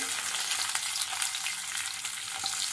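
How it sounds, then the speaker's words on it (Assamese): Chopped garlic and ginger fry in hot oil with whole cumin, a steady close hiss of sizzling broken by faint scraping as they are stirred around the pan. "এইখিনি অকণমান লৰাই ভাজি লওঁ।"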